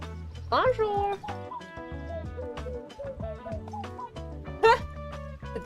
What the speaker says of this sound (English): The different bird sounds.